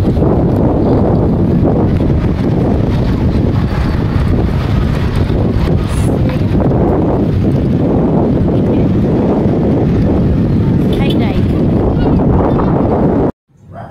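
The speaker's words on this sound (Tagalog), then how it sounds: "Kaya maririnig nyo ang lakas ng hangin." Strong wind buffets the microphone in a loud, constant low roar that continues throughout, then cuts off abruptly near the end, at Monte Maria in Batangas City.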